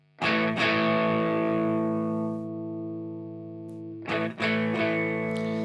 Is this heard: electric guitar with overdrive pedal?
yes